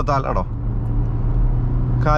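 A Toyota Glanza AMT hums with a low, steady engine drone from inside the cabin while driving, with someone talking briefly at the start and again at the end.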